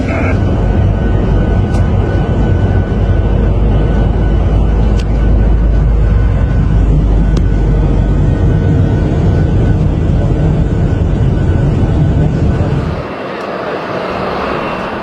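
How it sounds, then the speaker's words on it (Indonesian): Egyptian F-16 fighter jets escorting a presidential plane through Egyptian airspace make a loud, steady, roaring jet-engine drone that holds throughout, then eases slightly near the end. "Jet tempur Mesir, yang dikenal dengan armada F-16 canggihnya, memastikan keamanan penerbangan"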